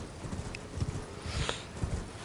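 Horse hooves clip-clop at a steady trot in Elden Ring on the Weeping Peninsula, four or five soft, even beats close by, with a thin ambient wash behind them and no talking.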